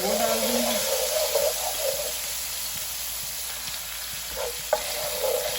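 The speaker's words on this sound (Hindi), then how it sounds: "बस थोड़ा सा ही फ्राई करना है ताकि उसका कच्चापन ख़त्म हो जाए।" Garlic fries in a pan with a steady, dense sizzle and crackle held close, with a few faint stirring scrapes and one brief clink partway through.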